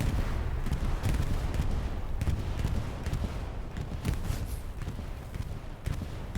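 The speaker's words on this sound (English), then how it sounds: "Here comes the bombing run." A video-game bombing run in a Hold the Line match: a string of sharp explosions and gunfire-like cracks, irregularly spaced and fairly loud over steady battle rumble.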